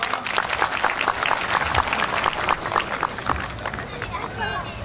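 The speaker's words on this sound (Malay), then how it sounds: "Mohon tepuk tangan semua." Audience at an Islamic religious lecture claps loudly and continuously, a dense, close wash of applause with murmuring voices mixed in.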